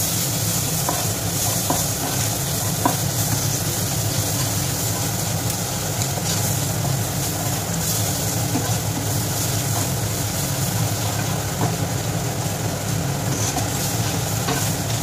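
Ginger garlic paste for chicken korma being stirred and fried in a pan: a steady, loud sizzle with faint scraping strokes of a spoon throughout, no talk.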